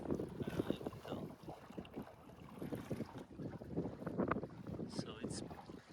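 Small Hunter 170 sailboat beating upwind on a lake, water sloshing and splashing against the hull under gusty wind buffeting the microphone, with a voice talking intermittently over it.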